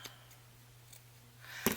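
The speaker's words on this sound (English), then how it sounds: "And my bigger scissors are still nice and sharp." Large fabric scissors snip through paper tags and fabric pockets in a craft setting, giving a short crisp cut near the end after a faint click, with a steady low hum underneath.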